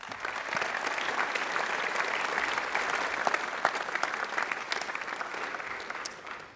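Audience at a secondary school awards ceremony claps in sustained, dense applause that swells steadily and then tapers off near the end.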